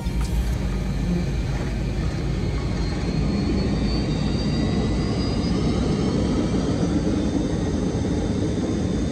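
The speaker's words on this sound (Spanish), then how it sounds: "Ese sonido que escuchan es la reversa de los motores a de los motores que tú, se utiliza para ayudar en el frenado de nuestro avión." Jet airliner engines in reverse thrust braking the plane on the runway just after touchdown, a loud, continuous broadband roar that holds steady from start to finish.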